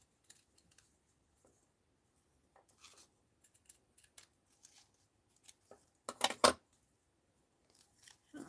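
Scissors snip out the legs of a mixed-media Scrooge paper doll: sparse, quiet little cuts scattered through a hushed room, then a louder, sharper double snip near the end.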